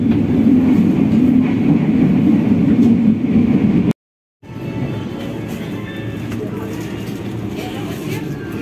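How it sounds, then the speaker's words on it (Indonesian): The Ranggajati train pulls into Purwokerto station with a loud, steady rumble of rolling carriages that cuts out briefly, then carries on at a lower, even level. "Kereta api Ranggajati tiba di stasiun Purwokerto"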